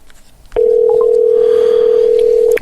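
A phone line tone sounds close and loud as a call goes unanswered, one steady unbroken tone lasting about two seconds after a soft click, with quiet room noise around it.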